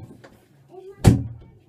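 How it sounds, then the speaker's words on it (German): A door pushed shut with a single solid thud, preceded by faint movement and a brief voice, leaving a short low rumble afterward. "Tür zu."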